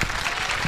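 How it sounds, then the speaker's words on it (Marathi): An audience at an educational guidance event claps for the lecturer, a dense, steady burst of applause, loud and close, brief and without talk. "पुन्हा एकदा जोरदार सरांसाठी टाळ्या द्या"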